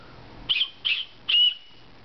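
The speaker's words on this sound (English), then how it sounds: "And then of course it's got the whistle. This might be loud." Three short, shrill blasts from the small whistle on a Life Gear glow stick light sound in quick succession, the last one held slightly longer, in an otherwise quiet setting.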